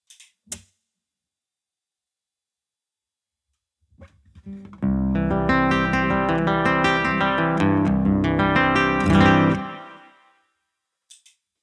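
A few plucked acoustic guitar notes and then a strummed chord ringing for several seconds, heard through the piezo pickup only without EQ, thin and bright in tone, with quiet handling taps before and after.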